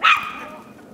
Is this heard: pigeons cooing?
no